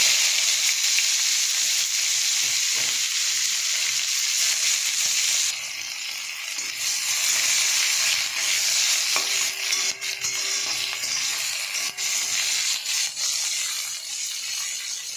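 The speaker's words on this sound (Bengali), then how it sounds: "এবার আমি পেঁয়াজগুলো দিয়ে দেবো।" Onions sizzle loudly in hot oil already seasoned with cumin seeds and bay leaves, a steady close frying hiss with occasional stirring scrapes and no talking.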